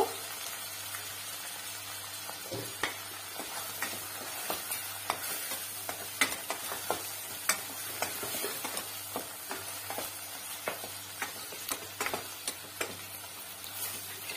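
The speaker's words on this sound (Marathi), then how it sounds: "हे जे काही इन्ग्रेडियंट आहेत हे चांगले तेलात परतले गेले पाहिजेत" Ingredients for a soya chunk pulao frying in oil with asafoetida and tomato, a constant sizzle broken by frequent light clicks and scrapes of stirring, close and steady, no voices.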